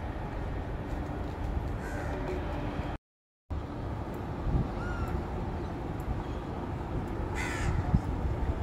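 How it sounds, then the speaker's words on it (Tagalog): Crows caw several times against a steady outdoor hum of traffic near Singapore's Marina Basin, their calls fairly distant and scattered over a few seconds. "Huni ng ibon maririnig nyo."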